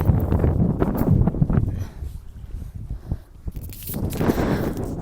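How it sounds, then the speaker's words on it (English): Strong wind buffets the microphone during a bike ride on an illuminated bridge in Abu Dhabi, a loud broadband roar that swells and gusts, easing briefly in the middle before surging again near the end. "the wind is blowing insane"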